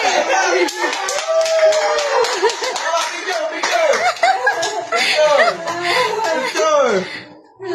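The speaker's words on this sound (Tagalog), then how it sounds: "Round of applause. Palakpak ate." A crowd claps at a graduation. The applause is mixed with lively voices and bits of laughter, and the talk sits over the clapping for most of the stretch.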